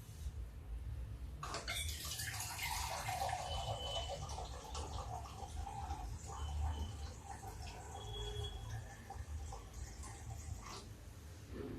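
Water from an RO filter is poured into a glass for serving at home, a steady faint splashing stream lasting several seconds against quiet room noise.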